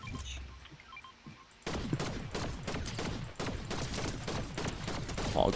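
Fortnite gunfire: after a short quieter stretch, rapid automatic shots burst out and keep crackling densely and loudly for the rest of the moment, with no talk.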